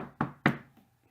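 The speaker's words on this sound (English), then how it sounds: "The third knock sounded through the house." Two sharp, distinct knocks on a door inside a house, loud and close, followed by a faint third tap and then silence.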